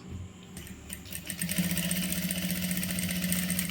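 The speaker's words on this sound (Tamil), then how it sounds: "இப்போ நான் கழுத்து மட்டும்தான் தைக்க போகிறேன்." A sewing machine runs in a steady, rapid mechanical whir while stitching a churidhar neck, starting after a few faint clicks and continuing close and even.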